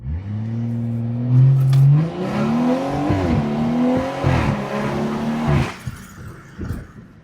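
A BMW 340i on mostly Michelin tires accelerates hard, its engine note climbing loud and close with a few quick shifts before easing off near the end.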